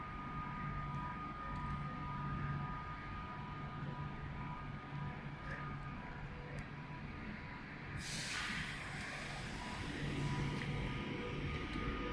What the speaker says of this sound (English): I conclude my video with the train leaving